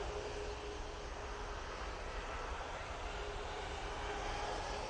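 A British Airways plane, bound for Shannon, takes off from Manchester Airport with a steady, loud, broadband engine roar that holds throughout and carries a faint tonal whine.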